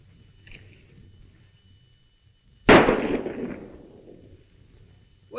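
A single sharp gunshot from an old gun in a 1939 Western feature film rings out loud and close, then decays through a long, rumbling tail. The moments before and after are near-silent.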